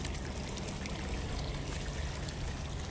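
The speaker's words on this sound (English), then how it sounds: "And it's just literally combining with Kali's waterfall." Steady, full rush of a waterfall pouring into a lake, continuous and fairly close, with no breaks or voices.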